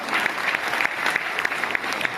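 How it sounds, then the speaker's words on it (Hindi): An audience claps at a spring festival comedy performance, a brisk steady patter of many hands filling the room, with a few sharper individual claps standing out and faint crowd murmur underneath. "तालियां बजाइए"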